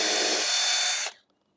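A power drill boring small pilot holes for screws into deck wood runs in one loud, steady burst of about a second, then cuts off into near silence.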